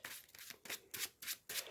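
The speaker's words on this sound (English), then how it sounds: "let's give the villain deck a shuffle" A deck of villain cards for the Marvel Champions card game gets shuffled, a series of about five quiet riffling bursts at an even pace, close and alone.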